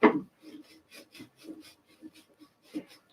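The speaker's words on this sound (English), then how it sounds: "This is how I'm going to be drilling this." An old-fashioned hand drill bores into soft wood with quiet, rhythmic rasping strokes after a sharp initial scrape; faint breathing sounds between the strokes.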